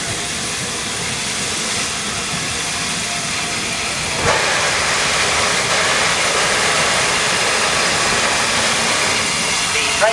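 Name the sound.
steam train passing through station on Bluebell Railway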